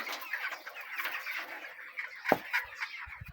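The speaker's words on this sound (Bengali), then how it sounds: "তো দেখেন ফ্যানের নিচে কিন্তু মুরগিগুলো রয়েছে" Broiler chickens cluck and chatter inside a poultry shed under fans in hot weather, a busy flock of soft calls with one sharper squawk and a few low thumps.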